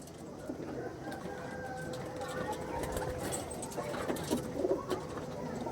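Andhra breed pigeons, a male and female pair with a chick, coo softly in low, rounded murmurs under a background of voices and faint rustling.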